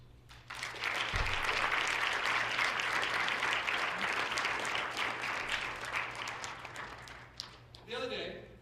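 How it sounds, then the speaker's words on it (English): An audience at a Carver High School National Honor Society ceremony gives sustained applause for members' parents, steady clapping across the hall for several seconds before tapering off. "I'd like to have a round of applause for you, our members."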